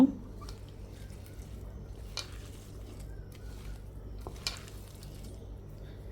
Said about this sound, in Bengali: পেঁয়াজটাকে আমি হলো একটু কষলাই নিতেছি